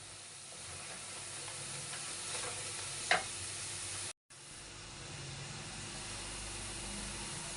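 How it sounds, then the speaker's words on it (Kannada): Ginger garlic paste fries in oil for a fish curry, making a soft, even hiss with one brief clink partway through and a momentary dropout. "ಇದಕ್ಕೆ ಈಗ ಶುಂಠಿ ಬೆಳ್ಳುಳ್ಳಿ ಪೇಸ್ಟ್ ಹಾಕ್ತಾ ಇದ್ದೀನಿ ಫ್ರೆಂಡ್ಸ್ ನಾನು ಎರಡು ಸ್ಪೂನ್ ಹಾಕಿದ್ದೀನಿ ಇದು ಒಂದು ಸ್ವಲ್ಪ ಫ್ರೈ ಆಗಬೇಕು"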